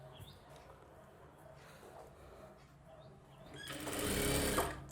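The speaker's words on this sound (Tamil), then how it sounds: "பேக் சைடில் இருக்க அர்க்காத் கனெக்ட் பண்ணி அப்படியே தையல் போடுங்க" Sewing machine stitching a blouse, starting as faint intermittent handling noises and then running in a fast, steady mechanical whir that swells loud near the end.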